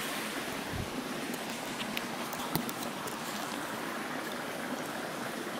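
River water flowing steadily in a broad, constant rush, close and loud, with occasional small splashes and clicks as someone wades through the shallow stream.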